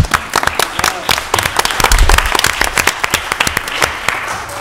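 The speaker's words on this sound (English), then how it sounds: "Give them another big round of applause" Applause at a city council meeting, a crowd clapping with distinct sharp claps in front, swelling slightly midway before tapering off.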